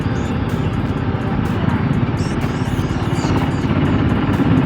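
A TVS Apache RR310 motorcycle engine drones steadily and loudly at a continuous pitch through wind rush while riding, with no clear break marking the shift into fifth gear.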